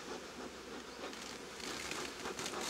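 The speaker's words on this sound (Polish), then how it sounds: "Pszczół jest grubo." Honeybees buzz around a hive and swarm trap, a continuous faint droning hum with no talk.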